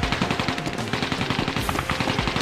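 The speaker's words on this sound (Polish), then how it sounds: "Tam słyszę strzały cały czas, jak się naparzają." Gunfire and machine-gun bursts in the Code of Honor video game, a rapid, continuous rattle of shots at a fast even rhythm, loud and sustained.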